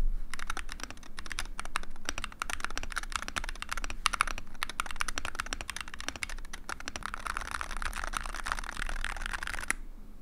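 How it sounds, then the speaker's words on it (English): Rapid, continuous clacking of a TMR mechanical keyboard being typed on, crisp keystrokes close by with brief pauses, ending abruptly. "I can have a normal sounding keyboard"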